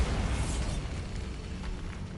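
A Bombarda blasting spell explodes in the Hogwarts Legacy video game, a loud low rumbling boom that starts strong and rolls on steadily as a dense, sustained roar for about two seconds, with no talking.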